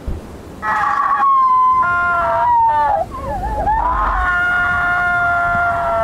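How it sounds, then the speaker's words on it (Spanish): A scream echoing down a hallway in the horror video game Lunacy Saint Rhodes, a loud wavering high-pitched wail that breaks, bends and then sustains like a siren for several seconds. "Investiga la procedencia del grito que acaba de escucharse en el pasillo."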